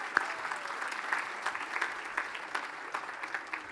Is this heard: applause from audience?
yes